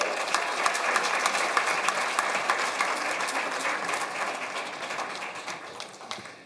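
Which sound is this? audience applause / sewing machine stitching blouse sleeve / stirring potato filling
audience applause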